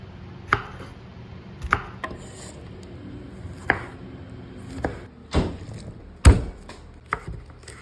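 A knife chops a serrano pepper on a cutting board, about nine sharp, uneven thuds spaced apart, close and clear with no talk.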